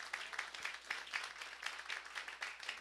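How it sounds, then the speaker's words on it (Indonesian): Applause from a church congregation at a sermon, a soft, steady patter of many hands clapping at a distance, fairly faint and continuous throughout. "Yang setuju berikan tepuk tangan yang meriah buat Tuhan."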